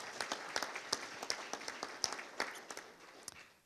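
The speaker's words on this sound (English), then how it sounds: "So yeah, a round of applause." Scattered, fairly sparse clapping from a small audience at a plenary session, individual claps standing out before fading.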